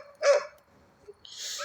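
A female dog, recently out of heat, lets out one short, sharp bark up close, followed by a pause and a softer, breathy yip or whine trailing off at the end.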